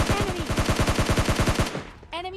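An S12 shotgun fires in PUBG Mobile Lite, a rapid loud run of about a dozen evenly spaced shots with a short sound after the firing stops.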